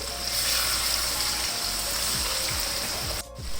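Water is poured steadily from a cup into a chicken kofta curry simmering in a pan, giving a continuous, fairly loud gushing splash that ends abruptly near the close, with faint low knocks underneath.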